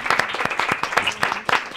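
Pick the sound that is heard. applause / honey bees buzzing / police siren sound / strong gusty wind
applause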